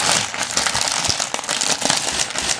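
Plastic toy packaging for a sarcosuchus figure being cut open at close range, with dense crinkling and crackling of stiff plastic and sharp snips scattered through a few seconds.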